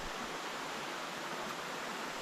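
Steady rushing of a stream on the Appalachian Trail while water is collected, a continuous soft wash of flowing water with no voices.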